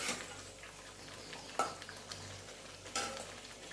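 Soybean chunks tossed into a pan of simmering potato and papaya curry, giving a soft stirring sizzle with a couple of sharp clatters of a utensil against the pan, fairly quiet and with no talk.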